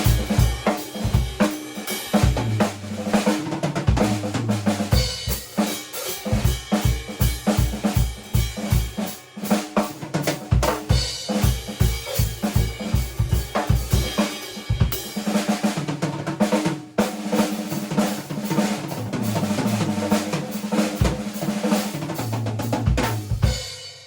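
Jazz drum kit improvisation over a basic beat, with fast fills, strokes on the cymbal bell and double bass drum hits. The playing is loud, dense and busy, with a quick rhythmic pulse and no talking.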